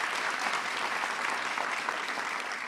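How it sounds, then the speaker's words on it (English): An audience at a White House event honoring the US women's soccer team gives a round of applause: dense, sustained clapping from a large crowd, close and steady for the whole stretch. "Please give him a big round of applause."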